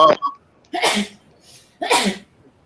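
Two sharp, loud sneezes burst out close by, about a second apart, with quiet room tone between them.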